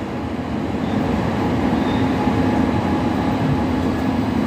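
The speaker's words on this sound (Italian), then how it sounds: "Il treno regionale proveniente da Farasavina è diretto a Fiumicino, aeroporto, delle ore 15:46, è in arrivo al binario 5." A regional train rumbles at Roma Tiburtina station, a steady low rolling drone with faint wheel hiss that carries evenly throughout, heard at a moderate distance with no voices.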